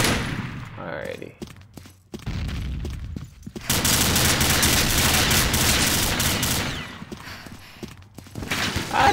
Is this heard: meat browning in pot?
no